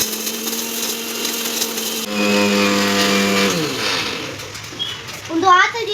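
An electric mixer grinds spices for Mangalorean-style chicken sukka, a steady whirring drone that shifts pitch partway and then winds down, with brief voices or household sounds near the end.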